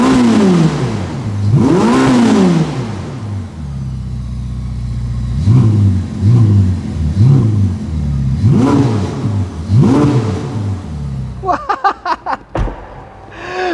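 A 2021 Ferrari SF90 Spider's turbo engine revs repeatedly in sharp rising-and-falling bursts, loud and close behind the exhaust, ending with a quick stuttering series of throttle blips.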